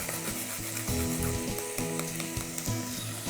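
Minced meat and onion fry in a pan, a continuous close sizzle broken by rhythmic scraping stirs, loud and steady with no talking.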